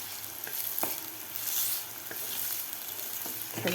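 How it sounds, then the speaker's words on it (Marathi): Onion sautéing with ginger-garlic paste in a pan for a dhaba-style baingan masala, a steady close sizzle with occasional spoon scrapes and stirring taps, no talk. "त्याबरोबरच आपल्याला अद्रक लसूणची पेस्ट घालायची आहे यामध्ये."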